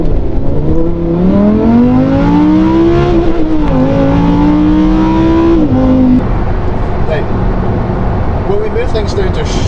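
A Lamborghini Huracan engine revs up loudly through the exhaust with rising and falling pitch, then settles into a rumbling idle, heard close and loud throughout.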